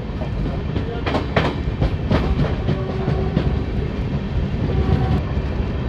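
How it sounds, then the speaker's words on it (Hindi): The Lalkuan–Howrah train runs on the tracks along the Bhojipura line, a steady loud rumble with rhythmic clicking of wheels over rail joints, heard from on board and continuous throughout. "और हमारी ट्रेन जो है वो भोजीपुरा वाली लाइन पर आगे बढ़ते हुए"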